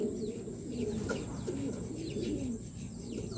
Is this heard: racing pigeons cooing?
yes